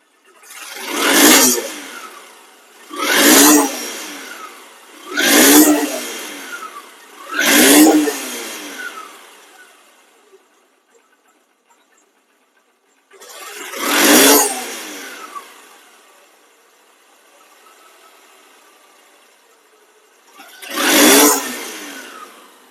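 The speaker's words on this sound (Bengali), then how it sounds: "এখন এই বাইকটি স্টার্ট করে দেখাবো।" A second-hand SP Shain motorcycle engine in showroom condition, running after start-up and revved in six loud, close bursts, with quieter idling between them.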